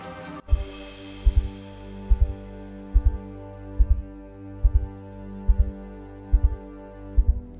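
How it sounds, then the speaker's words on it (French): Heartbeat ambience from the VR game Crystal Rift: a steady double thump repeats roughly every 0.8 seconds over a sustained low droning hum, with no talk. "Petite ambiance battement de cœur."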